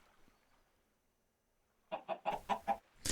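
Chickens cluck in the Minecraft Tekkit 2 video game, a quiet stretch giving way to a rapid burst of five or six loud, close clucks in a quick rhythm.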